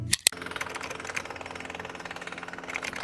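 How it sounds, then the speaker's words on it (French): A jackhammer pounds away in Malaysia with a rapid, steady mechanical rattle, moderately loud and continuous after a brief sharp knock at the start. "Il y a un mec qui fait du marteau-piqueur"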